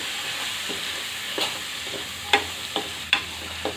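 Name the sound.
broad beans being stirred in a pan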